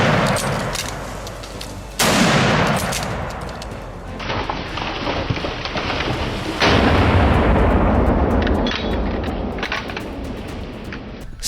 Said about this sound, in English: With calm nerves and a precise trigger pull, he took down another target.